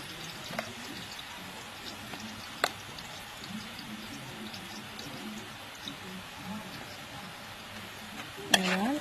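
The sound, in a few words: stirring frying onion with spices for prawn malai curry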